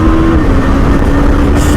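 A 2021 KTM Duke 390 BS6 motorcycle engine revving high past 6000 RPM on a road, a loud steady buzzing drone held at high revs throughout, no talk.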